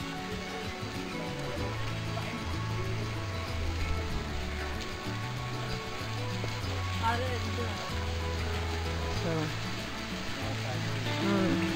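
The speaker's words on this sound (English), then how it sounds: "Waterfall." Waterfall at the Hercules Monument, a steady broadband rush of falling water that fills the whole clip at moderate level, with faint talk and other background sounds underneath.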